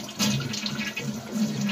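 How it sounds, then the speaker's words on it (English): Rushing water from a toilet flush, a close gurgling swirl that surges and churns as the tank drains. "Drain all the water out of the tank."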